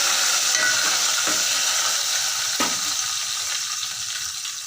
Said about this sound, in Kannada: ಸ್ವಲ್ಪ ಫ್ರೈ ಮಾಡ್ತೀನಿ.